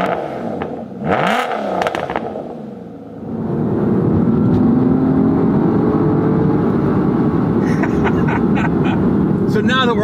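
A manual Aston Martin DBS gets underway on the road, the engine rising into a steady strong drone after a brief warbling revving passage, heard loud and close from the car.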